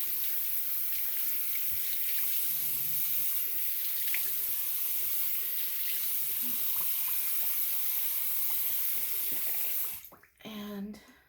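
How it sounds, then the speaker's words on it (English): Steady running tap water splashes into a sink as hands wet a face, a continuous broadband hiss lasting most of the clip before stopping near the end, followed by a few brief handling sounds. "So I'm just getting my face wet."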